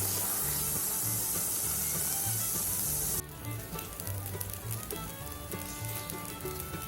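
Cooked rice tipped into a pan of frying mint gives a loud, steady sizzle that abruptly softens into quieter crackling and stirring.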